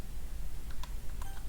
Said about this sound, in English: My phone begins going off not long after the lunch period has started.